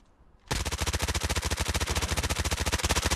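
Rapid automatic gunfire in the mobile shooter game Call of Duty Mobile bursts in after a brief quiet moment and keeps hammering in a fast, steady stream of loud, close shots to the end.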